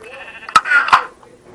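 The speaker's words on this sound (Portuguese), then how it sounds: "Barulho de ovelha." Blocky sheep in the Minecraft video game bleat twice in quick succession, a clear nasal baa each time over faint ambient game noise, with no talking.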